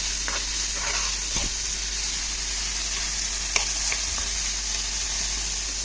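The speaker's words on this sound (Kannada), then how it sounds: "ಸೊ ಆನಿಯನ್ಸ್ ಹಾಕೊಂಡು ಅದೇ ಗೋಲ್ಡನ್ ಬ್ರೌನ್ ಆಗೋದು ಫ್ರೈ ಮಾಡ್ಕೊಳ್ಳಿ" Onions frying in a pan toward golden brown, a steady broadband sizzle throughout with a few soft clicks of stirring, no talk.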